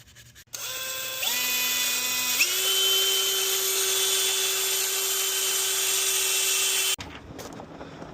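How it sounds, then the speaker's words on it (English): A power tool whines up to a steady high pitch while a Scotch-Brite pad scrubs a VW Tiguan 2.0T TSI oil pan, holding loud and even for several seconds before cutting off abruptly. "All right, we're cleaning up this oil pan now. Got one of these Scotch-Brite pads, a little brake cleaner."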